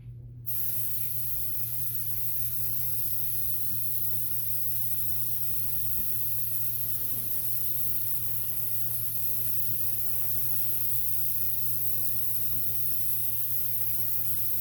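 An airbrush sprays paint in a steady, faint, continuous hiss that runs without a break for the whole stretch, with a low hum of room noise underneath and no talking.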